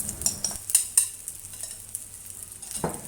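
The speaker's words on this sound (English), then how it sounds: "Then start by stir frying the rice over low heat until the rice is fully covered by the oil." Cooked rice being stir-fried with sautéed garlic in oil over low heat in a pan, soft steady sizzle broken by a few sharp utensil scrapes and clinks near the start and one more toward the end.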